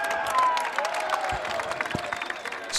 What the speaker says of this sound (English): Everyone started cheering.